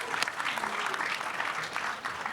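An audience claps at a film panel discussion on low-budget filmmaking, with steady moderate applause that stays fairly even throughout.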